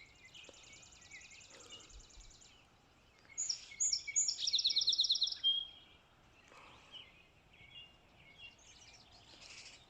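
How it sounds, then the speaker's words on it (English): Birds sing in a garden path at 5am, a cluster of bright, close chirping trills rising in the middle, with fainter twittering before and after over a quiet background. "Pretty birds."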